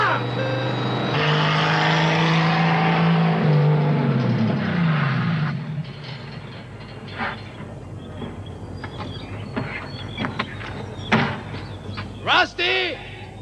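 A car engine revs hard and roars as the vehicle pulls away at speed, loud at first and then fading under clattering and knocking. Voices shout over the engine.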